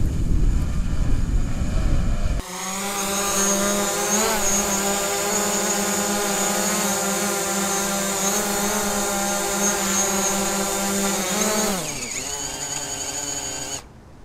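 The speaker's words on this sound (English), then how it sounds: "make sure it's at eye level so you can see where those propellers are spinning" A DJI Mavic Pro drone hovers close by, its propellers producing a loud, steady high-pitched whine with harmonic tones that shift in pitch. The whine drops away near the end, after an earlier burst of handling noise.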